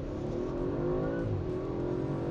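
A 2021 Audi RS 5 accelerates hard from 0 to 100 km/h on a race track in dynamic mode, its engine note rising steadily in a close, continuous roar from inside the car.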